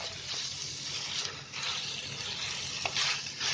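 Onion chicken sizzling and frying in a pan over high heat while being stirred, a steady close hiss with faint scraping bursts throughout, no voices.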